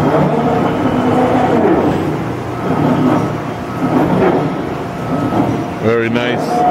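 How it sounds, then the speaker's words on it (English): A Niagara 10-foot, 135-ton mechanical press brake with a mechanical clutch runs with a loud, steady mechanical rumble and a sharper burst near the end. "Here we got a Niagara press brake, 10 foot, mechanical. Mechanical clutch."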